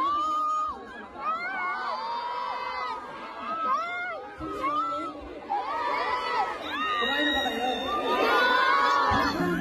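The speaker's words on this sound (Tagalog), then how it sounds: "Ang lakas ng sigawan" A large concert crowd in Dubai at a show shouts and screams loudly, rising and falling waves of high-pitched cheering with excited voices throughout.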